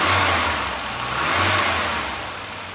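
A car engine runs steadily after a timing adjustment on an abandoned car under repair, with no belt squeal, a loud close hum that swells and eases gently as if lightly revved.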